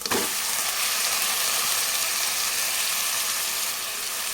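Loud, steady sizzling of chicken frying in a pan with ginger garlic paste, a constant hiss from start to finish with no talking.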